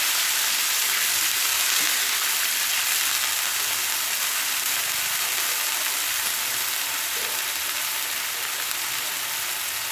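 Water hits a cooking besan mixture and sizzles in a steady, hissing bubbling that fills the pan evenly throughout, with no voices.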